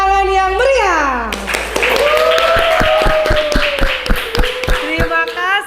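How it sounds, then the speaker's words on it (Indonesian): A classroom of students bursts into rhythmic clapping that rises to a near, steady patter, then thins out, with a voice speaking over it throughout. "Tepuk tangan yang meriah."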